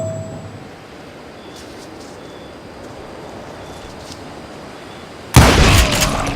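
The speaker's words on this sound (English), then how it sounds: "Who's shooting at me?" In the Call of Juarez: Gunslinger video game, a quiet stretch of ambience is broken near the end by a single sudden, loud gunfire burst that stays rough and noisy for about a second.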